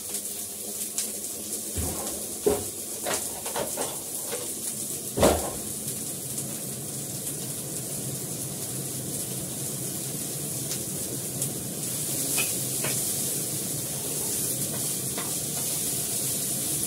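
Vegetables including onion, green chili, capsicum, beans and carrot sizzle steadily in a hot pan, with a few sharp scraping stirs early on and a constant frying hiss throughout.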